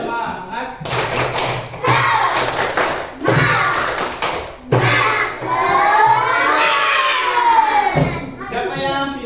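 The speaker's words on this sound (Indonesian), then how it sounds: "Sebelum kita masuk ke materi, kita tepuk-tepuk dulu." A classroom group performs a rhythmic clapping cheer in a teacher-training session, bursts of claps and shouting voices repeating in waves, loud and close, mixed with talking and chanting throughout.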